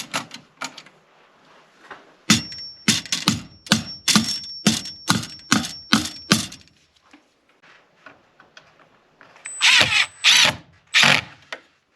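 A power drill whirs in a rapid series of short bursts, pauses, then several louder bursts follow as screws are driven in close by.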